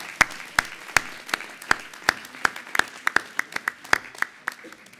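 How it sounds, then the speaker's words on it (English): A graduation ceremony audience claps for Bachelor of Science students in International Hospitality Management, sparse distinct handclaps in a steady irregular rhythm, fairly close and clear with little else behind them. "So let's give our Bachelor of Science students a big round of applause."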